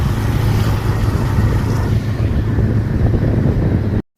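Wind buffets the microphone as a motorbike rides home, a steady loud rumble with an engine hum underneath that runs for about four seconds before stopping abruptly.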